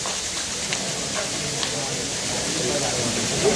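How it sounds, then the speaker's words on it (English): An audience at a motivational talk rubs their hands together in unison, making a dense, steady swishing hiss that holds for several seconds and swells slightly toward the end. "Rub both your hands together."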